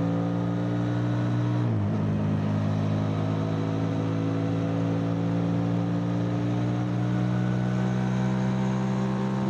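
Rieju Xplora 557 motorcycle engine revving hard while riding, holding a steady high-pitched drone that drops sharply once, like a shift, then climbs back and stays loud and close.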